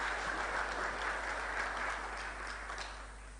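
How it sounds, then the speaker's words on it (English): Conference audience at an insurance event gives the panelists a steady round of applause, dense continuous clapping that gradually fades toward the end. "Can you please give them a second round of applause?"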